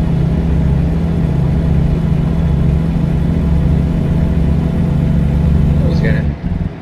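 Smaller Volvo truck engine of about 400 horsepower with a 12-speed transmission pulling uphill, a loud, steady low droning rumble heard from inside the cab that cuts off sharply near the end, with people talking.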